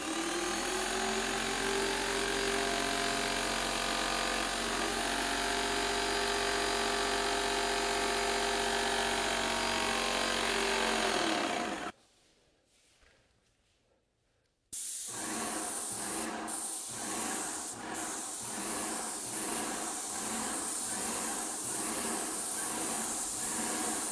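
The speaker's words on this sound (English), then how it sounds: "Point gun into waste pail, pull and hold the trigger, lower this valve to spray" A Graco Magnum X5 airless paint sprayer runs with a loud, steady hiss for about twelve seconds, cuts to near silence, then restarts with a pulsing, rhythmic spray hiss.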